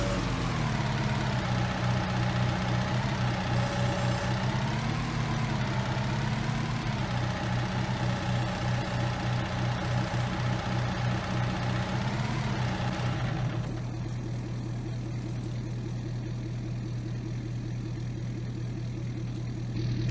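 Kubota skid steer diesel engine idling during warm-up in Farming Simulator 19, a steady, loud low rumble with a slight wavering throb that runs unbroken throughout, its tone shifting to a smoother hum near the end.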